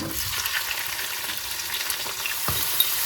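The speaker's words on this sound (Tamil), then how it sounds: "வெங்காயம் நல்லா பொரிஞ்சு வரட்டுக்கும்." Chopped onions fry in hot oil with mustard seeds, fennel and fenugreek, a dense, even sizzle close up with a single faint stir of a spoon near the end, no talking.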